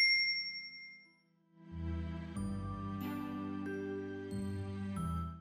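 Bright bell-like dings ring out as a notification sound effect, starting with a sustained tone and then several layered chimes struck in quick succession, each with a long ringing decay and no talking.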